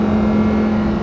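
A Lamborghini engine drones loudly and steadily from close by in a new car on the road, a continuous low hum with no distinct breaks or shifts in this brief moment.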